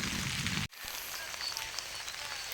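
Continuous rain falls steadily over farm fields, a soft broad hiss that cuts out briefly and then resumes more quietly, with no talking.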